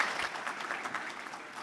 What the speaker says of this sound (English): Have a great round of applause.